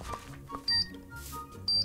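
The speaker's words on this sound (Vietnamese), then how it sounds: "Mình nghe tiếng tít tít vậy" Short electronic beeps from a bomb devil about to explode in a Minecraft Chainsaw Man game, two brief high tones about a second apart over faint game background sounds.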